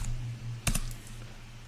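A quick cluster of computer keyboard keystrokes, a few close clicks bunched together in the middle over a steady low background hum.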